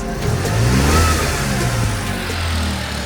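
A car engine revs under throttle during a mobile mechanic's roadside repair, a steady loud mid-pitched drone that swells around the first second and holds for about three seconds with no talk.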